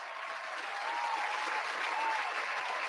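Round of applause during a sports talk show, a smooth, even roar of many clapping hands, fairly quiet and steady throughout with no voices on top.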